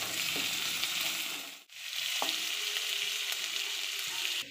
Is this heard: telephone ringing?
no